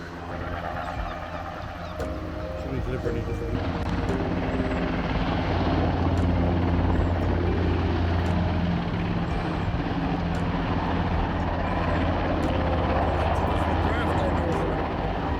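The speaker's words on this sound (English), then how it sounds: "And there's another helicopter landed already." A rescue helicopter drones steadily nearby on the coast at Bedruthan Steps, Cornwall, its rotor and engine noise swelling after a few seconds and holding loud and constant.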